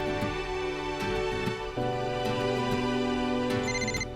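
A phone ringtone plays a repeating melodic pattern, steady and fairly loud, with no voices.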